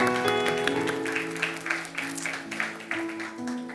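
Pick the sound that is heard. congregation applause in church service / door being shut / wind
congregation applause in church service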